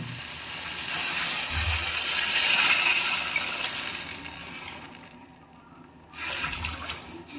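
Tamarind water pours and splashes into a pan, rising in a gushing swell, easing off, then a brief fresh splash.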